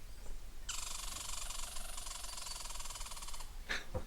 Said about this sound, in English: Squirrel sounds.